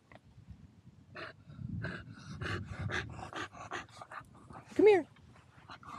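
A dog pants and whimpers softly close by while a person speaks gently over it; one louder whine stands out near the end.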